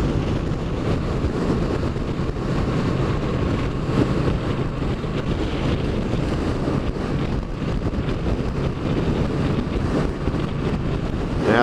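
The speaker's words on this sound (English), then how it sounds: "with the wind today, you can't pace it by wind noise" Loud, steady roar of wind buffeting a rider on a Triumph Street Cup motorcycle on a gusty day, a dense broadband rush that never lets up, with no talking.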